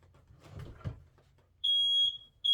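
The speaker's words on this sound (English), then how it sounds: "I set off my fire alarm." A home fire alarm goes off with a loud, piercing electronic tone that starts after some low background rumble, sounds for about a second, pauses briefly, then starts again.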